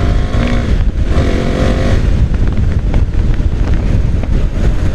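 A KTM Duke 390 motorcycle accelerates hard, its engine note rising under heavy wind buffeting against the microphone, loud and continuous throughout.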